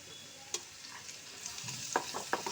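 Chopped onion with salt, chili powder and turmeric fries in a pan for a spicy-sweet achari eggplant dish, a faint sizzle punctuated by a few sharp spatula clinks and scrapes near the end.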